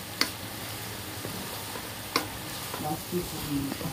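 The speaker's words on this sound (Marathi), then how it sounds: "5 ते 6 मिनिटं मस्तपैकी त्याला परतून घ्यायचं आहे" Schezwan chutney sizzles in a pan as it is sautéed and stirred, a steady close frying hiss punctuated by a couple of sharp spoon knocks and soft scraping toward the end.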